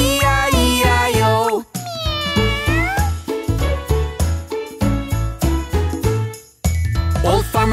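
A singing voice imitates a cat with repeated melodic meows in a cartoon nursery rhyme about a farm, over bright music with chimes and jingles, the meows loud and close in a bouncy, regular rhythm.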